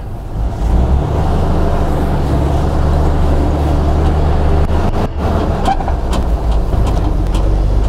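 A 1952 ZiS MMZ-585 dump truck with an unsynchronized gearbox and no power assist runs steadily with a loud low engine drone, a brief dip and clunk as it shifts from second to third.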